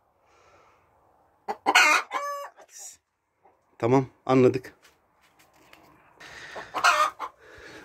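A hen clucks loudly in a chicken coop in a few sharp, close bursts, with someone talking between and over the calls.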